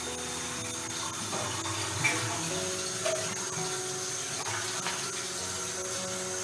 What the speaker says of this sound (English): we're just going to let this run for a second or so, and we'll make sure that it's actually getting hot